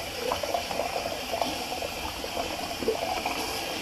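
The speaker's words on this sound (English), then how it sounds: "Sorry there, folks, for running the water." Water runs steadily from a tap, a continuous close splashing hiss with faint gurgling.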